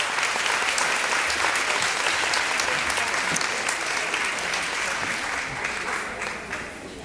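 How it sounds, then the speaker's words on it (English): Audience applause for students at an advisory board meeting, a steady, dense round of clapping throughout that fades slightly near the end. "Please give them all another round of applause."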